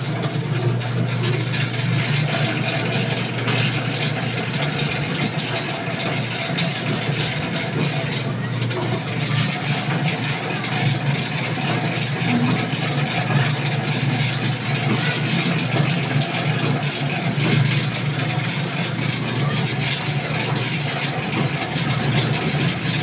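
A dough mixer and dough roller driven by a motor with an inverter speed controller, running as a steady, continuous mechanical drone with a low hum, unchanging for the whole stretch.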